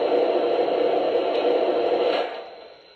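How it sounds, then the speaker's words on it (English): Steam blowdown effect from a Lionel Legacy Russian Decapod model locomotive in Frisco 1630 livery: a loud, continuous broadband hiss of venting steam that holds for about two seconds, then tapers off quickly. "Here's the blowdown."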